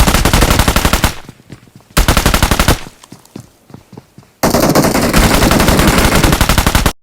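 Rapid automatic gunfire in the mobile battle royale game BGMI, played on an iPhone 13 Pro, comes in three loud close bursts of evenly spaced shots, with quieter scattered shots and footsteps between them.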